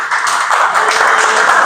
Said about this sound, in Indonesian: boleh tepuk tangan buat kelompok 1